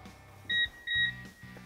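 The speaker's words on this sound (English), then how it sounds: "You'll hear an initial beep followed by 3 other beeps." A SoilWarrior scale system's indicator for 2.5-inch load cells gives two short electronic beeps about half a second apart during a hold-button menu press, fairly quiet over low background hum.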